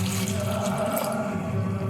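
Water pours steadily into a pot of jackfruit seeds being readied for boiling in a home kitchen, a close, continuous splashing and trickling with no talk.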